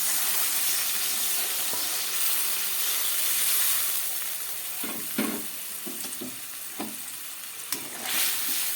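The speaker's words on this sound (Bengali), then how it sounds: "এবার দিয়ে দিচ্ছি এর মতো উষ্ণ গরম জল" Warm water poured into a hot pan of fried parshe fish sets off a loud, continuous steaming hiss that settles into bubbling and sputtering pops, with no voices.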